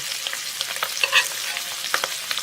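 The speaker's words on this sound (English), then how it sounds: "just take some of that butter goodness and spoon it up over this thyme" Butter spooned over thyme in a hot pan, alongside pork chops, a loud, constant sizzle and spatter with light metallic spoon scrapes and clinks throughout, close and with no voices.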